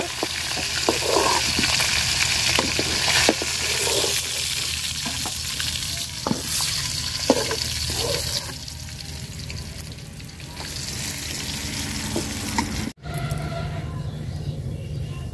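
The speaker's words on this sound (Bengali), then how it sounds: "মাছ কড়া করে ভাজা নিচ্ছি" Pond fish frying crisp in hot oil, a continuous dense sizzle with scattered clicks and stirring scrapes throughout, loud and close.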